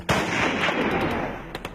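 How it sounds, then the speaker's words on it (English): Tribesmen in the Khyber Pass firing firearms in celebration: a dense, continuous roll of gunfire crackling close and loud, with a couple of sharper single shots near the end. "these days the tribesmen use their firearms the way we use fireworks"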